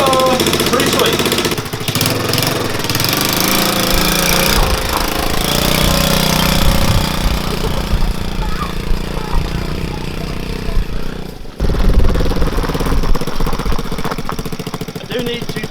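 A 110cc ATV engine runs loud and close, a steady rattling drone that briefly cuts out and then returns, with a voice speaking over it.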